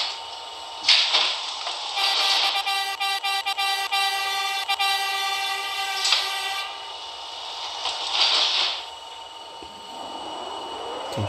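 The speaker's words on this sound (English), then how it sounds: "This is a Queensbound A Express train." An MTA R32 subway train in a Roblox game runs along the A line, a steady mechanical rumble with a long horn-like tonal blast in the middle and several bright whooshes passing by.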